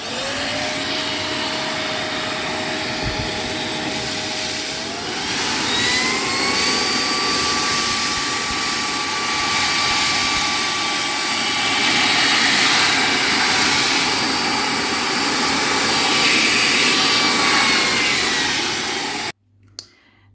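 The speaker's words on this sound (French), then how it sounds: "nous allons aspirer et nous allons faire confiance à l'aspirateur." An AONUS A9MAX robot vacuum cleaner runs steadily nearby, a constant whirring motor hum with rising whine that shifts pitch midway, continuing for a long stretch before cutting off abruptly with a click.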